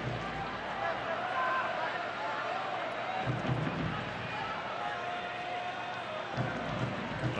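A stadium crowd at a soccer match in downtown St. Pete makes a constant murmuring roar with some scattered shouts, heard at a distance beneath a commentator's voice.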